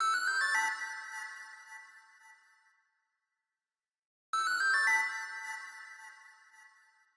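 A finished hip-hop beat pattern built on a melodic sample with a delay effect: a bright, chiming phrase plays and rings out over about three seconds, a short silence, then the same phrase repeats and decays, with no voices.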